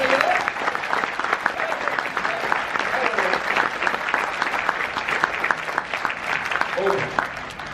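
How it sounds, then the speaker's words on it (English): Theatre audience aboard a P&O cruise ship applauding the lights, sound and backstage crew, with steady, dense clapping that fills the room throughout, while a voice speaks over it briefly. "Would you give them a big round of applause?"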